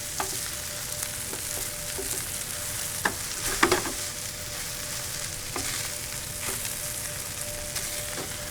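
Par-cooked rice toasts and fries in a pan with a constant close sizzle, punctuated by a handful of soft scrapes and clicks as it is stirred.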